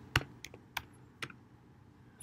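A computer keyboard being typed on, with a handful of separate crisp key taps spaced irregularly, close and fairly quiet against a low room hush.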